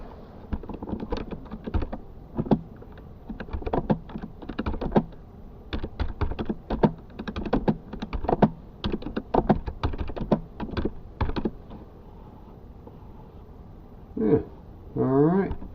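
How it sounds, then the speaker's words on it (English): Typing on the keyboard of a Chuwi HiBook laptop, a close run of rapid, uneven key taps lasting about twelve seconds, followed by a short stretch of quiet talk. "we're going to go over here and just type some stuff"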